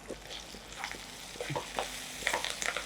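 Onion, mint and curry leaves fry in a pan with a soft, steady sizzle, broken by a few light stirring scrapes and clinks; quiet and close.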